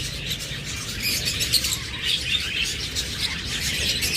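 A pair of creamino budgerigars chirping, a dense continuous chatter of high twittering calls heard close and fairly loud, with no talking over it.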